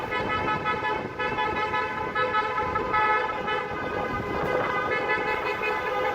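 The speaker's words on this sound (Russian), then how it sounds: "Что-то все начали бибикать просто так," Many car horns honking in street traffic in Istanbul, overlapping toots and sustained blasts layered over engine rumble, loud and close for the whole stretch.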